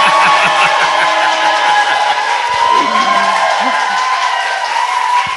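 An audience applauds and cheers during a Korean talk show segment, a dense crowd noise that runs the whole clip. Voices and other tonal sounds mix in throughout, so the clapping is partly masked.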